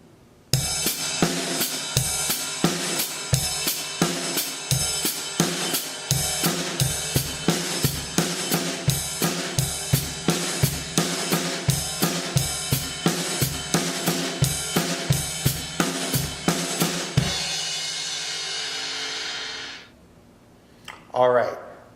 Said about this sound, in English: add that paradiddle pattern underneath the ride, and it will sound like this.